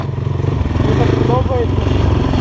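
Yamaha YZ 250 motocross dirt bike engine revving in a forest, a loud close buzzing drone that rises in pitch, with people talking over it.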